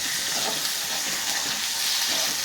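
Green chillies fry with salt in a pan, giving a steady, close, unbroken sizzle with a broad hissing wash and no talking.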